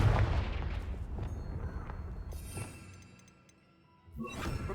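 A Confringo spell blast goes off in Hogwarts Legacy: a sharp, loud boom with shattering debris, a decaying rumble and scattered crackles, then a second burst swells at the end, with no voices.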